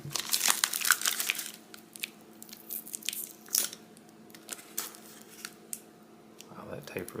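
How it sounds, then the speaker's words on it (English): Packing tape is peeled and torn off an unboxed package, with crinkling and ripping in irregular bursts, loudest at the start and then in scattered, quieter snatches. "that tape really came off where I didn't want it"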